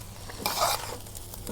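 Rice being fried in oil in a saucepan and stirred, for a beef biryani made with Qurbani beef: a short burst of close sizzling and scraping stirring rises and fades over a quiet background, with no talking.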